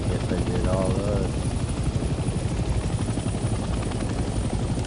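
A helicopter flies in the video game Hell Let Loose, its dense rotor and engine roar filling the whole stretch at steady loudness, with faint speech-like traces underneath.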